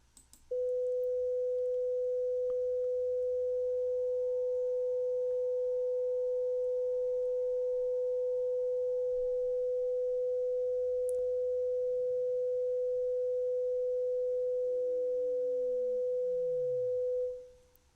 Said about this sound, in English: bring back the second tone under the 500 Hz masking curve and sweep down in frequency this time